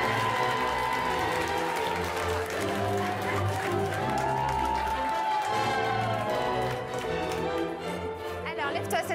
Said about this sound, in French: Les amis, je vous demande de faire un tonnerre d'applaudissements pour Amélie Nethen